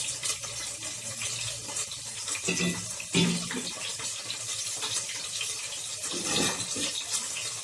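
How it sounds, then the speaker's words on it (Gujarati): Water is poured onto a plate covering a pan of Kathiyawadi stuffed chillies, giving soft splashes and a few sharper splatter bursts over a faint background hiss. "થોડું પાણી મૂકશું એટલે નીચે દાઝે નહીં"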